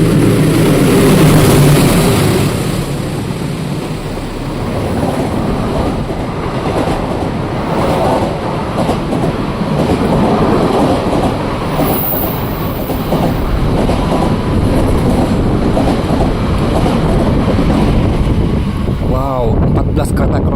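A long 14-car Kertajaya economy passenger train rolls past a station platform at Bekasi Timur at close range, a steady rushing rumble with rhythmic wheel clatter that goes on and on, with voices talking over it.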